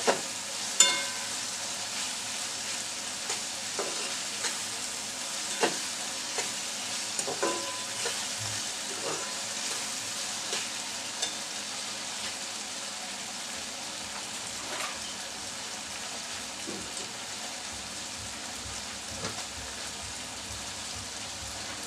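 Eggs and tomatoes sizzle and fry in a pan, with steady hiss throughout and irregular scraping taps of stirring close by.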